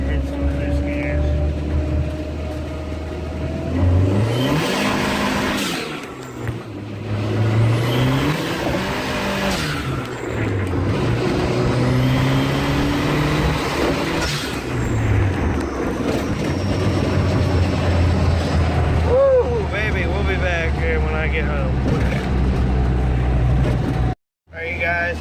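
A turbocharged car with a stiffer 15 lb wastegate spring accelerates hard, its engine note rising and falling through several gear pulls over road and wind noise, loud and close.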